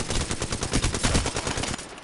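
Rapid bursts of video game gunfire, dense automatic shots crackling loud and close for about two seconds before tapering off.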